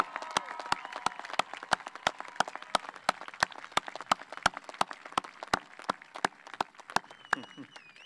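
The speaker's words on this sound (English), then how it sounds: "can we just give everybody here one big round of applause for coming out and celebrating these students?" Audience at a high school graduation claps in a steady, evenly spaced rhythm, sharp distinct claps in unison at moderate distance with a faint crowd murmur and voices underneath.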